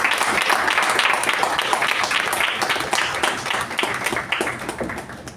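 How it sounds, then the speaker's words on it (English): An audience applauds club officers at a meeting, dense clapping holding steady and loud before thinning slightly toward the end. "let's give these officers a huge round of applause for their legacy and service"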